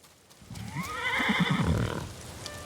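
A horse in the video game Ghost of Tsushima gives a loud, close whinny that rises and then trails off, with a snorting, breathy texture and a faint clopping underneath.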